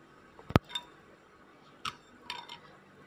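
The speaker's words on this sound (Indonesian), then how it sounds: "Kita aduk ya sambal cengkehnya ya." A spoon clinks against a bowl while stirring sambal cengkeh for the Palembang dish celimpungan. It makes one sharp, bright knock followed by a few lighter, scattered taps in an otherwise quiet room.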